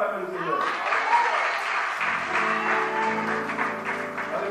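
A church congregation at a prophetic gathering claps and cheers steadily, a sustained wash of applause mixed with shouting and praising voices.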